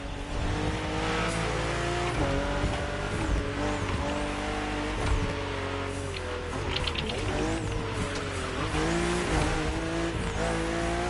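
BMW M2 and M4 cars racing in The Crew Motorfest, engines droning and revving steadily on a narrow road full of sharp bends, with brief tire squeal and no break in the engine noise.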